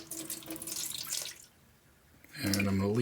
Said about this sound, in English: And going to just pour into the sink.